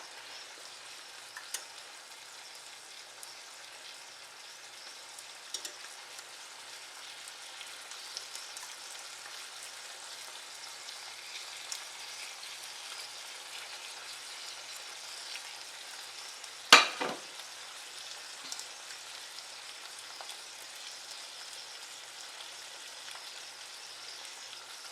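Bacon and mushrooms frying in a pan give a faint, steady sizzle and crackle, with one sharp clatter of a utensil partway through.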